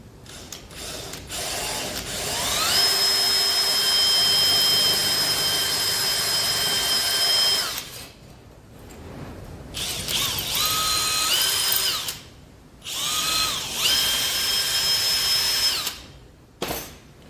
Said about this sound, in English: I'm just finishing up drilling through this on the last one.